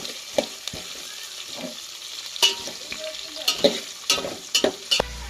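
Potato, carrot and green chilli frying in a pan, a soft sizzle broken by sharp clinks and scrapes of a spoon stirring, with several quick knocks near the end.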